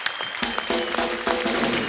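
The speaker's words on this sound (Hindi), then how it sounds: "एक बार रहमान साहब के लिए जोरदार तालियां हो जाए" A studio audience on a TV comedy show claps steadily and enthusiastically, a dense burst of applause with no voices over it.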